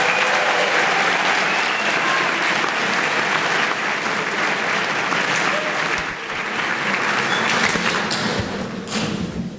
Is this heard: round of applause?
yes